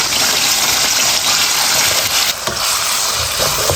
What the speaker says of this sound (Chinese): 锅里面多留点油，炒肉末